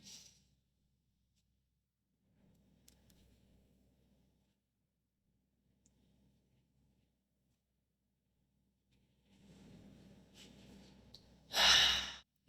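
Slow, deep breathing during a lower back release exercise lying on a foam roller, faint soft inhales and exhales in a quiet room, ending with a louder, heavier sigh-like exhale.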